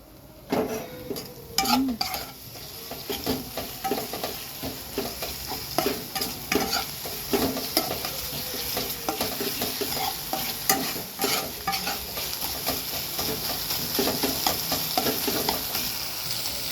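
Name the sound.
chicken and potatoes frying and stirred in a pan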